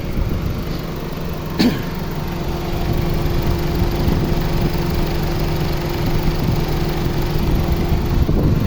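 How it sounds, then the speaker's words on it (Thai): A steady, low idle from a 2002 Honda Civic Dimension engine rumbles evenly throughout, with a brief click or knock near the start and no voices. "เครื่องยนต์เดินเรียบมาก ๆเลยนะครับ"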